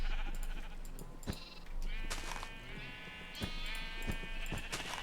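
Sheep bleat repeatedly in Minecraft, a flock of several animals giving short overlapping calls at close range over a low background hum.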